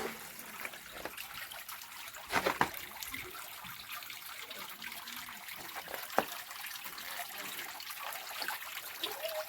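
Clear, cold water trickling and dribbling inside Kocharikkal caves in Ernakulam, a soft continuous flow with a few louder splashes, faint and close, with no talk over it.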